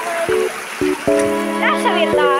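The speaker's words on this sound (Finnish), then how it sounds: "Tuolla tulee aika paljon vettä." Water gushing strongly out of a pipe beside a small dam, a steady rushing wash heard throughout under someone speaking nearby.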